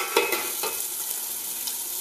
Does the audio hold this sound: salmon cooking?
yes